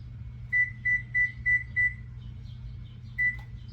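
An oven's control panel beeps as the temperature is set to 325: five short, high electronic tones in even succession, a pause, then one more, clear over a low kitchen hum.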